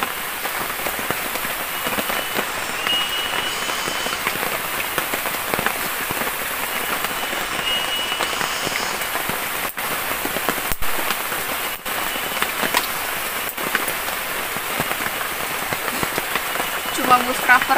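Light rain falling steadily in a hillside forest, a soft, even patter on leaves and ground with a few sharper drips and taps standing out, close and continuous with no voices.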